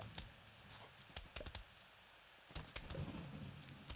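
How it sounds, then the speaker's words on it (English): Rain and rumbling thunder from a storm level of the video game Plants vs Zombies, with bursts of crackling noise over a steady wash of rain and no voices. "I love thunderstorms, but this is not okay."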